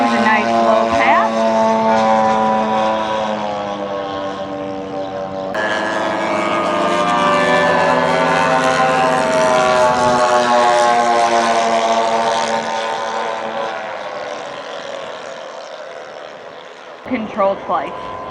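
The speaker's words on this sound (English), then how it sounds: "John Fisher leading the pack with a nice slow pass." Propeller airplanes at an air show making a slow low pass, a loud droning engine hum that swells as they approach and then fades, with a voice speaking briefly over it.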